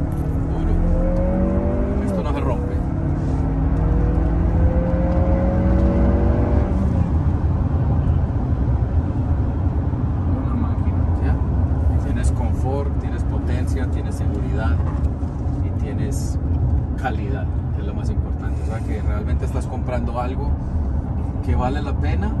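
Lexus SUV accelerating hard in Sport mode, heard from inside the cabin: a steady, loud engine and road roar with rising engine tones early on, under near-constant talking.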